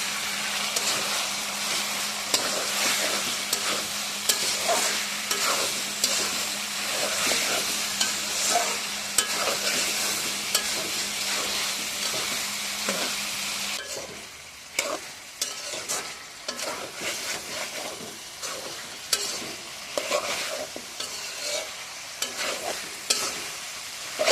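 Meat with green chilies sizzles and fries in a pan, steady frying hiss under repeated scraping strokes of a spatula stirring the pan, close and continuous throughout.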